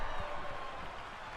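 A crowd at a virtual wrestling match roars in a steady, wash of cheering and applause during the action.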